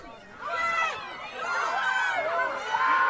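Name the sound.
soccer crowd cheering loudly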